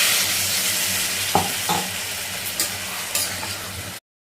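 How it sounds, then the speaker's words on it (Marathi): A soybean pulao rice and spice mixture sizzles steadily in a pan while being stirred, with a few soft scraping knocks over the close, continuous frying hiss. "सगळं मिश्रण आपण एकजीव करत आहोत"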